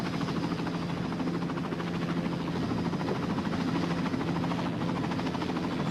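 A helicopter chases a polar bear across open ground, its rotor drone continuous and steady throughout, loud and unbroken, with no voices.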